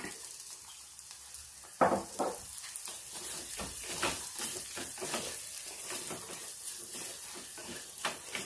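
Coconut oil sizzles and crackles in a pan while ginger curry cooks, a steady hiss that swells with louder bursts as the contents are stirred, close and continuous with no talk.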